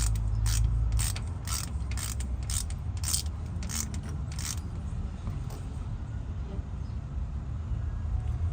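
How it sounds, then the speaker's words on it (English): A ratchet clicks in a quick, evenly spaced run as the differential drain plug is tightened on a Land Rover Discovery 2, close up over a low background rumble, then stops and leaves only the rumble. "Let's get this drain plug back in."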